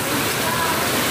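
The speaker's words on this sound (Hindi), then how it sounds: "ये देखिए, मुस्कान तो पानी इकट्ठा कर रही है बाल्टी में।" Rainwater pouring into a bucket during a rainstorm, a dense, steady splashing rush of falling water, loud and close, with no pauses.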